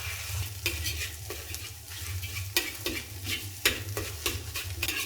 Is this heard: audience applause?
no